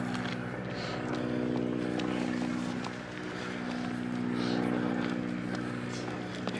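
A biplane circles overhead near Tintagel Castle in Cornwall, a steady droning engine hum that swells and fades slightly throughout, heard outdoors as a continuous background tone.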